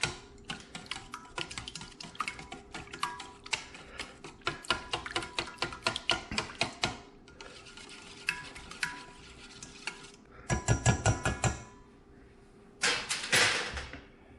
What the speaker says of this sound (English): Now we'll whisk our egg in our buttermilk.